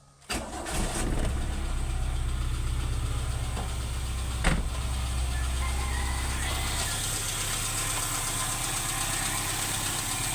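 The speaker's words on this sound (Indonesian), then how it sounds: "mobil kita hidupkan" A car engine cranks and catches, then settles into a steady, even idle that runs on close and continuous, a mechanic's garage setting while the alternator is being checked.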